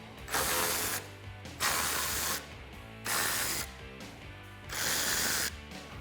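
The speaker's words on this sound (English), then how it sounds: "we're gonna remove the 4 10 millimeter bolts at the top of our grill. Grab a 10 millimeter socket" A ratchet with a 10 mm socket loosens the top grille bolts on a 2019-2020 Chevrolet Silverado 1500, making four separate bursts of close, fast mechanical clicking with short pauses between them and no speech.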